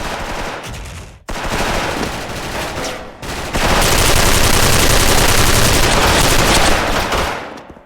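XM8 rifle gunfire in the shooter game Special Force, loud and close, with two short bursts separated by brief gaps, then a long continuous burst of automatic fire that tails off at the end.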